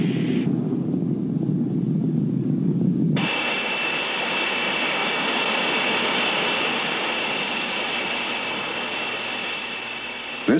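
A Boeing B-47 Stratojet bomber and a tanker during aerial refueling: a steady, loud jet engine roar fills the scene after a shift, sustained and unbroken, with no voices.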